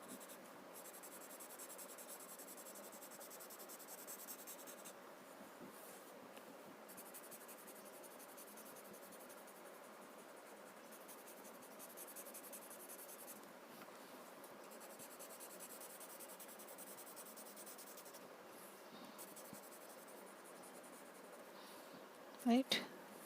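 A brush pen adds dark shading to the corner of a Zentangle drawing on paper, making a soft, continuous close-up scratching and rubbing that holds steady for a long stretch, with a couple of brief taps near the end.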